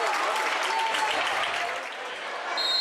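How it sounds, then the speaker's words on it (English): A standing high school volleyball crowd in a gym applauds and cheers steadily during a timeout, a dense, loud wash of clapping with a faint voice over it. "And the crowd is fired up."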